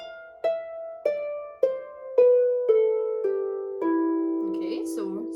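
A harp plays a slow descending scale from F down to E, each plucked string ringing out clearly one after another with sustained decay, close and alone, with a few brief softer sounds near the end.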